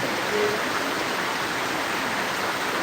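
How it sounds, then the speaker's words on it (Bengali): Heavy night rain heard from a balcony, a steady, even wash of broadband hiss with no distinct drops or voices, moderately loud and unchanging for a few seconds. "রাত্রে বারান্দায় বসে বসে মুসলধারে বৃষ্টি হচ্ছে"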